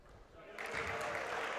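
Dakota Wesleyan fans clap during free throws at a men's JV college basketball game, a diffuse, steady patter of crowd clapping that rises partway through and carries on under a commentator's voice.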